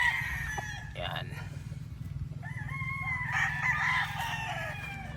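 An Albany gamefowl rooster crows on a farm, two crowing calls standing out over a low rumbling background, with speech faintly present.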